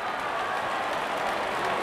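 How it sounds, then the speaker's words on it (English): A cricket crowd at a one-day international between Sri Lanka and Afghanistan applauds a wicket, a steady wash of clapping and cheering at moderate distance. "The crowd is enjoying the moment."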